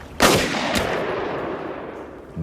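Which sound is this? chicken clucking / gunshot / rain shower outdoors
gunshot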